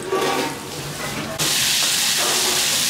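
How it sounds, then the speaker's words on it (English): Shrimp paste (belacan) sizzles loudly in a hot pan, a bright hissing spatter that jumps up sharply partway through and stays steady and close. "it is to saute the shrimp paste"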